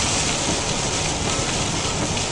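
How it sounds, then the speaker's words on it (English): Heavy rain heard from inside a moving car on the way to work, a dense, loud, continuous hiss and patter drumming on the roof and windshield without a break. "but look how bad it's raining today."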